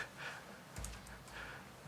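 Someone types on a disliked computer keyboard while coding, producing a few soft, scattered key clicks over a quiet room background.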